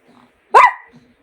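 A single sharp, close bark from a small Shih Tzu dog, loud and brief, against near silence.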